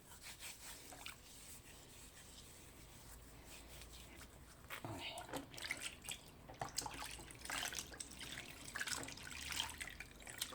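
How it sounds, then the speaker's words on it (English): Water runs from a tap while hands are washed with a homemade body scrub made from shampoo. A soft, continuous splashing grows busier partway through. "And wash your hand."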